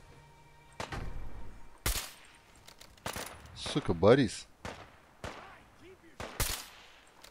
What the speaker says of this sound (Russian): Винтовка стреляет со звуком, как у биатлонистов прям.